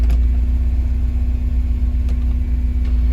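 A Toyota MR2 with a swapped-in Honda K24 engine and Hondata tuning is out on the road, its steady low rumble and faint hum heard from inside the cabin with no talking.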